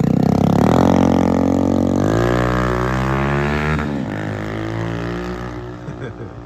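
A motorcycle engine runs close and loud, its harmonic rumble climbing through two rev rises before settling back toward a steadier idle.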